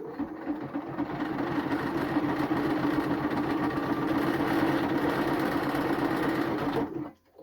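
A sewing machine hums and rattles steadily while zigzag stitching elastic into the leg of a swimsuit, running continuously for several seconds before stopping abruptly near the end.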